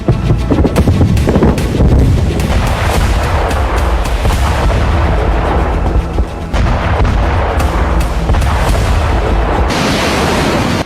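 Heavy booming blasts and crackling rumble from a missile strike on a naval base roll on continuously, loud and distorted, with wind buffeting the microphone throughout.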